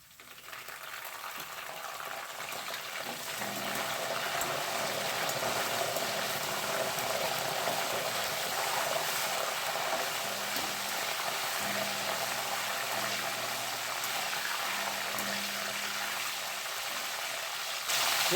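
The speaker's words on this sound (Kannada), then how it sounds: "ಉಪ್ಪು ನೀರು ಹಾಕಿ ಕೂಡ ಈ ರೀತಿ ಮಿಕ್ಸ್ ಮಾಡಿಕೊಂಡು ಇರಬೇಕಾಗ್ತದೆ" Breadfruit chips frying in oil as salt water is added and stirred, giving a steady, close bubbling sizzle that holds at an even level throughout with no voices.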